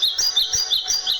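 Small birds chirp and tweet in quick, repeated bright calls, continuous and fairly loud, with no voices over them.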